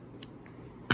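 Scissors snip through embroidery thread on a boho junk journal cover, one faint light snip early, then a single crisp, close cut at the end of an otherwise quiet moment.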